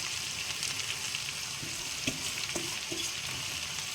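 Cooked rice frying in ghee for fried rice, a steady hissing sizzle under a few soft stirring scrapes, close and even, with no talk.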